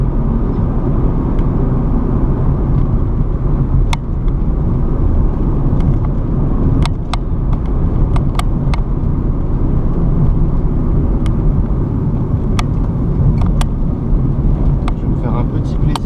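A Ford Mustang GT V8 drives along, its engine a continuous loud low rumble with short sharp ticks and bursts layered on top, heard close from inside the car.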